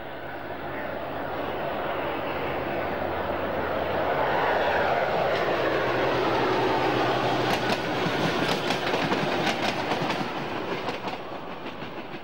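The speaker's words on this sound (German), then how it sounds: "Im Bahnhof Wünschendorf ist die Durchfahrt für den Triebwagenzug nach Karlsbad gezogen." An SVT Hamburg-type diesel express railcar train passing through Wünschendorf station in 1965, a loud rushing roar that swells and holds, with rhythmic wheel clicks on the rails toward the end.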